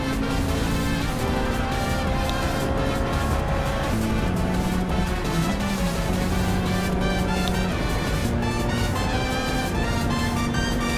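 Race car engine in a driving video game, a sustained loud whine that rises and falls in pitch as the car speeds up and slows, running continuously with no talk.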